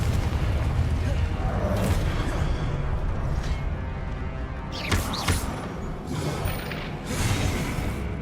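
Confringo explosion spell in Hogwarts Legacy, several sharp booming blasts around the middle and end over a constant rumbling game background, with a voice speaking in between.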